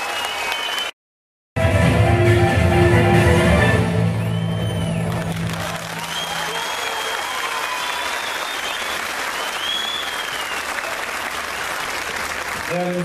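Loud sustained applause from a large crowd at a groundbreaking ceremony in Fikirtepe, Istanbul, with cheering voices and a speaker's amplified Turkish talk rising over the clapping.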